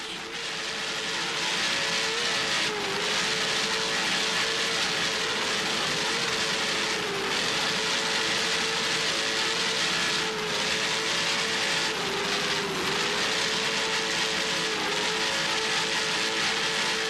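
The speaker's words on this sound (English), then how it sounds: "Just listen to those Zool Racing engines." Offshore powerboat racing engines roar continuously at the 1995 Palm Beach County Offshore Grand Prix, a loud sustained droning whine with slight pitch swells as boats pass, filling the whole stretch without voices.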